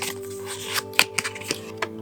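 Tarot cards being shuffled up close, a quick riffle followed by several sharp snapping taps.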